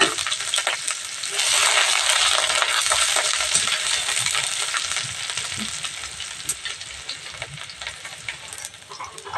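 Onion and green chilli frying in hot oil in a pan, a close, busy crackling sizzle with occasional clinks and stirring scrapes, loudest early then easing slightly, no talk.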